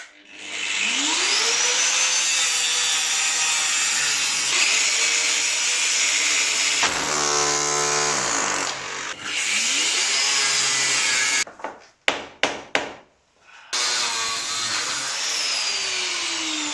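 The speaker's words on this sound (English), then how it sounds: "I had iron cutting disc only for small 125mm angle grinder" A small 125mm angle grinder with an iron cutting disc cuts through an old pipe in a stone house wall, a loud, sustained whine that briefly changes pitch, then drops out in several short gaps before resuming.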